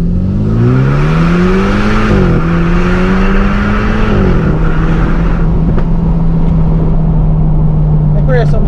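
A Honda Civic Type R FK8 exhaust is loud and close, revving up and easing off in a few rising and falling pulls before settling into a steady drone, with talk over it.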